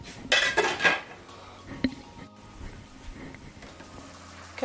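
A lid clanks onto a pot holding coconut rice with pigeon peas, with a few loud metallic clinks and rattles close by, then a quieter clink, followed by low kitchen background.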